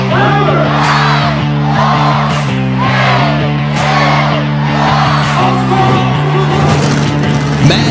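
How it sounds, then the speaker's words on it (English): Crowd noise at a monster truck show at Lake Erie Speedway, a dense, steady roar of cheers and shouts under loud announcer-style voices and rumbling music or engines throughout. "Matt Isbell getting the crowd pumped up as action gets underway here at Lake Erie Speedway."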